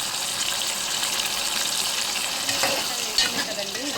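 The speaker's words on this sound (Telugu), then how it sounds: "జీలకర్ర కూడా లైట్గా వేగిన తర్వాత టమాటా వేసేసుకుందాం." Tomatoes fry with cumin seeds and curry leaves in a pan, giving a steady, fairly loud sizzle with a few light stirring knocks and no talking.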